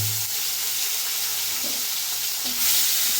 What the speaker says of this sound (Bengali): এই তেলেই দেখো দারুচিনি ফোড়ন দিয়ে দিলাম তেজপাতা দিয়ে দিচ্ছি